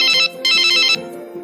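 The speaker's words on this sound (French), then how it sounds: "Téléphone qui sonne" A telephone rings in two bright electronic bursts with a pause between them, loud and close and heard on its own.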